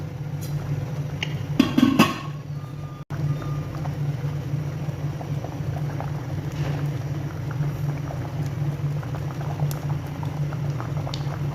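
Ginisang monggo, a mung bean stew with chicken, simmers in a pot with a continuous bubbling patter, loud and close, with a few sharp clanks and knocks near the start.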